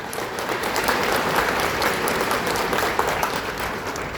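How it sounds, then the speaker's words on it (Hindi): Dense, sustained applause from a large audience, steady and loud throughout with no break. "मैं चाहूंगा एक बार आप सब अपने लिए भी एक बार ताली बजाएं जोरदार।"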